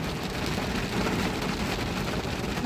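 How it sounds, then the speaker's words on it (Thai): Steady rain pours down in a dense, continuous hiss, loud and close, with no breaks and no voices. "ลงไปไม่ได้จ้าฝนตกมาเลย"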